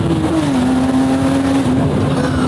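V8 Formula 1 engines revving up to 19,000 rpm scream loudly and continuously, a close, high-pitched roar with one dominant tone that dips and holds steady.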